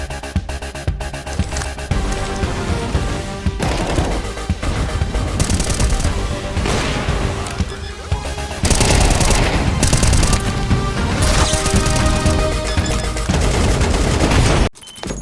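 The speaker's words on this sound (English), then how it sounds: "Counter-Strike is known for its visceral and satisfying gunplay." Counter-Strike 2 gunfire: dense, continuous bursts of automatic shots and layered explosive cracks for about fifteen seconds, loud and close, with no talking.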